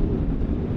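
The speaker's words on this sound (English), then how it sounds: "It's a very, very windy day again." Strong westerly wind buffets the microphone on a rainy coast, a steady loud roar with no break.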